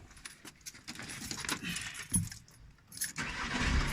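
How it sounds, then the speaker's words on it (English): A 2016 Seat Alhambra (7N) is started: keys jangle close by, the starter cranks and the engine catches and settles into a running hum, with no talking. "before you do anything else, is turn the engine on"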